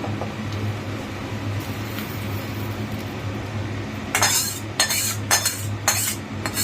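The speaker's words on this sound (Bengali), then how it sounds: "এবার ওটা ভালো করে একটু নেড়ে দেবে" A spoon stirring dalia (broken wheat) pulao in a pot just after water is added; a quiet stretch gives way to a series of close scrapes and metallic clinks against the pot.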